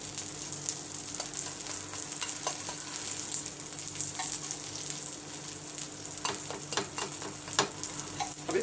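Food fries crisply in a pan over a low flame, giving a steady, close sizzle broken by small clicks and scrapes as it is stirred and turned.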